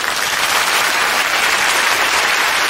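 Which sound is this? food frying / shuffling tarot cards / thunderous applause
thunderous applause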